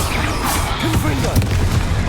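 A Confringo fire-blast spell going off during Hogwarts Legacy combat, a dull boom under a dense wash of battle noise with voices calling spells.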